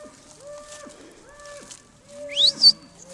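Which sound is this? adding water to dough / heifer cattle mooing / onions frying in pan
heifer cattle mooing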